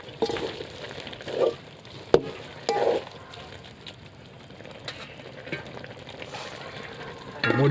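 Soya chunks fry in a pan at home with a steady close sizzle, broken by occasional scraping stirs and a few sharp clinks of a utensil against the pan.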